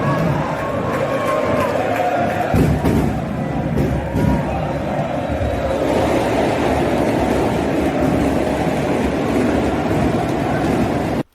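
Vasco supporters in a packed football stadium fill the air with a loud, continuous wash of crowd noise and chanting, while someone talks over it now and then.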